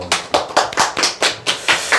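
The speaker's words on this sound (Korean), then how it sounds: "박수!" Clapping from a small audience at a stock-investing and telemarketing sales talk, about eight distinct, fairly regular claps over two seconds, close and crisp with no voices.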